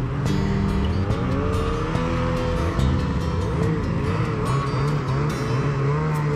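Snowmobile engine droning steadily while riding a winter trail near West Yellowstone, Montana, a loud continuous motor with wavering pitch and rumble, no voices over it.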